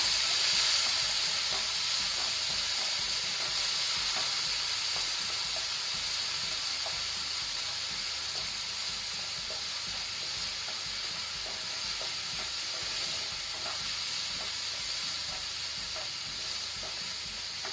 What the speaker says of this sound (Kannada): ಸೇರಿಸಿ ಒಂದು 2 ಮಿನಿಟ್ಸ್ ಫ್ರೈ ಮಾಡುವ ಸ್ಲೋ ಫ್ಲೇಮಲ್ಲಿ.